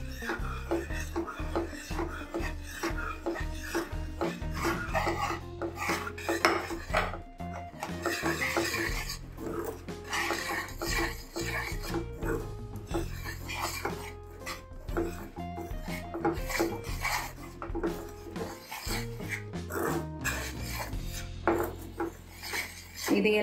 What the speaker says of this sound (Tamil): இப்போ மாவு கொஞ்சம் கொஞ்சமாக சேர்த்து கிளறுவோம்